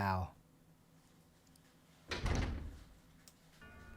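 A door opens in the video game Resident Evil 0 HD Remaster, a single heavy creaking swing lasting about half a second, loud against a quiet background, after a brief burst of voice at the start.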